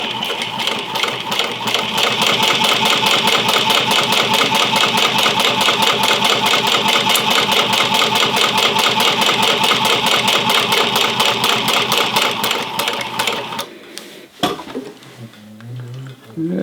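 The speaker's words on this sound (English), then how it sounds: "we will sew this side down first at the width of the presser foot, so right along the edge." Domestic sewing machine stitching one side of a flat felled seam at presser-foot width, a loud, steady rapid needle chatter running for about thirteen seconds before stopping, followed by brief fabric handling and a voice.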